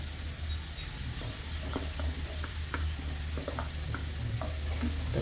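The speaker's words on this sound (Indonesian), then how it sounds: "Tumis kembali sebentar." Scallions and a seasoned chicken filling are stir-fried briefly in a pan, giving a steady soft sizzle with light scraping and tapping of the spatula throughout.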